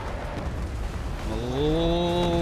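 A rain ability effect from the video game Heroes of the Storm hisses as steady rain, then a bright, shimmering magical tone rises and holds at the end, loud and alone.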